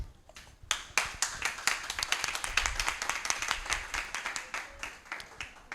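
Audience at a vocal coaching grand finale breaks into applause, starting with a few scattered claps and swelling into steady, fairly close clapping from a modest crowd that continues throughout.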